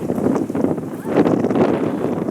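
Strong wind gusting across Castaway Cay island, a broad roaring rush buffeting close to the microphone and swelling in gusts, with no other clear sounds.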